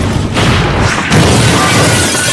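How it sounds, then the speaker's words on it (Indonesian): Loud, dense rumbling blasts from a war film battle in which an Allied tank is destroyed by explosions, with a sharp surge of crashing debris midway and a sustained roar throughout. "Ledakan demi ledakan menghancurkan satu tank milik sekutu."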